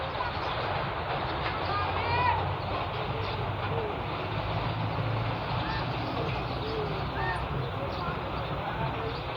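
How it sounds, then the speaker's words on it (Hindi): An oil train rumbles steadily past a railway station, a continuous close roar with rolling low clatter throughout, some faint chirps over it. "Oil train."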